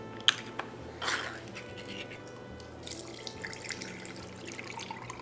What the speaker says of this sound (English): I'm going to open up the pineapple and drain it.